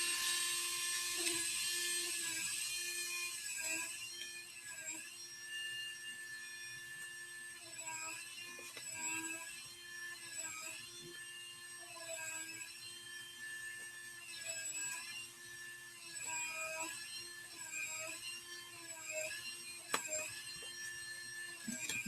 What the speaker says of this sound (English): sweet sounds of Will's Dremel